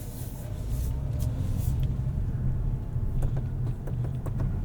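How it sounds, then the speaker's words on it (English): A 2024 Mazda CX-90 Turbo 3.3 Premium Plus drives on the road, heard from inside the cabin as a steady low engine and road rumble with a few light clicks. "Let's go see what this Mazda CX-90 is like on the road"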